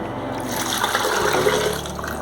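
Water pours steadily into a metal pressure cooker, a close gurgling splash that shifts in tone as it fills.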